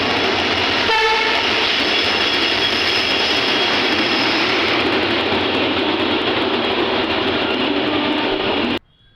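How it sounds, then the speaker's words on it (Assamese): A passenger train at Mariani station rolls past with a loud sustained rumble and clatter, a horn sounding early on, and the noise cutting off abruptly at the end. "মৰিয়নিৰ পৰা কামাখ্যালৈ LTT মুম্বাই LTT ট্ৰেইনখন আছে"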